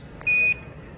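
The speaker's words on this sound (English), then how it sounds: "1202 program alarm" Apollo 11 lunar module program alarm during the lunar descent: one short, steady electronic beep, about a quarter second long, over a low background hiss of radio noise.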